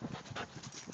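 A dog pants outdoors in a short, steady run of quick breaths, close and fairly loud, with no talking over it.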